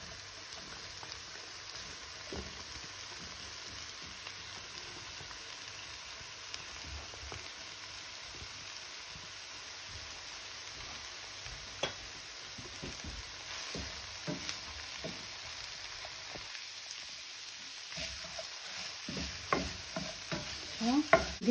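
A low, steady sizzle of bell pepper and vegetables frying in a pan, with occasional scraping and clinks of stirring growing busier toward the end.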